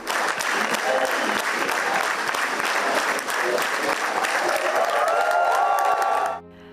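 A theatre audience applauds Fernanda Montenegro on her 95th birthday before a film screening: dense, loud, sustained clapping from a crowd that cuts off abruptly near the end.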